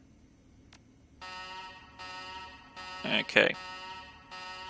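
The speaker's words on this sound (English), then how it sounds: "the alarm klaxons blare, and the ominous rumbling sounds fills the air" Self-destruct alarm klaxons blaring in the Shadowrun: Dragonfall video game: repeated harsh buzzing blasts in a regular on-off rhythm, with a brief spoken word over them.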